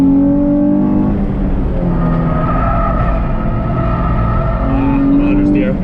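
A race car engine drones loudly and steadily at close range at Lime Rock, a Hyundai Kona's exhaust ahead sputtering roughly as it holds speed around the track.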